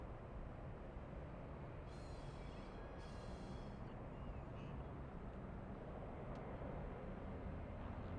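Cargo airplane with a rumbling, train-like roar, heard as a steady, loud broadband drone for the whole stretch, with faint high chirps near the start.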